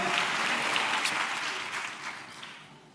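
A church congregation claps together during a Telugu sermon, a dense, steady wash of applause that stays loud and then tapers slightly toward the end, with no voices over it.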